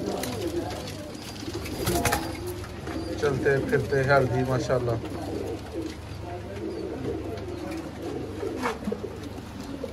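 Pigeons coo softly and repeatedly in the background while someone talks over them, with faint bird chatter throughout, at a pigeon market in Sialkot.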